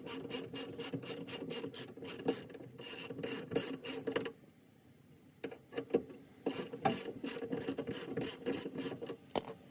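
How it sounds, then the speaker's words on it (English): A ratchet works loose the sway bar links on a Porsche Boxster 986/987, giving rapid, repeated close clicking strokes in bursts with a brief pause partway through. "we just gotta drop the sway bar by undoing the sway bar links here"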